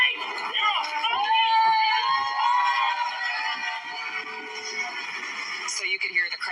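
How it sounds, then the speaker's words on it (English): Displeased crowd at a rally at the Arkansas state capitol protesting a preacher, overlapping shouts and jeers blending into a loud, harsh roar with raised voices, captured distantly and somewhat distorted. "So you could hear the crowd obviously was not pleased with what he was saying"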